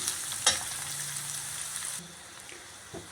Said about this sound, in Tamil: வெங்காயம் நல்லா பொடியாக கட் பண்ணி வச்சதை வந்து இதில் சேர்த்து நல்லா சிவக்க நல்லா வதக்கிடலாம்